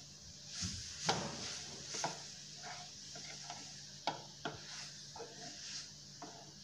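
Carrot laddu mixture being stirred in a pan, a quiet run of soft scrapes and light taps of a spoon against the pan, irregular and close.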